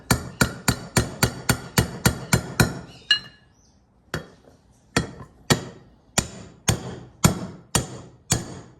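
A needle bearing for the pinion is hammered into a Yamaha Kodiak 400 ATV differential, with a rapid run of sharp metallic taps, a short pause, then slower evenly spaced blows, close and crisp.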